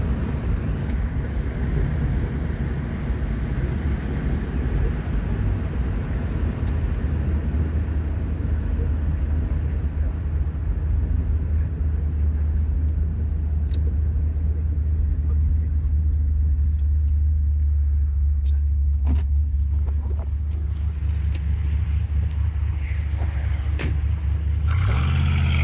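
A 1963 Corvette Split Window coupe with its original 327 engine and four-speed gearbox cruises along, a steady deep engine rumble with a faint gear whine holding throughout, loud and close with no talk.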